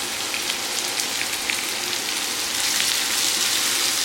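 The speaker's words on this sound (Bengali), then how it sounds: "রসুন আর কাঁচা লঙ্কা দিচ্ছি এবার তেলের মধ্যে।" Garlic and green chillies sizzle loudly in hot oil in a Bengali kitchen, a close, continuous hiss and crackle that holds steady throughout with no voices.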